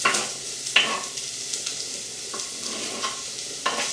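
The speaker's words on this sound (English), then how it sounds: "we're going to take the leek and the carrots and the celery and just lightly fry them off" Leek, carrots and celery fry gently in a pan with a steady soft sizzle, broken by a few sharp clicks and scrapes of stirring, with no voices.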